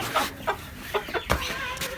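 A rooster clucks in several short, separate bursts close by, over a steady background hiss.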